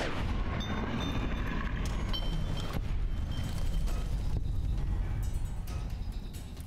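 Gunfire in Fallout New Vegas, a stream of heavy, booming shots with a rumbling undertone, fairly loud and continuous, with a few sharper cracks standing out before it thins near the end.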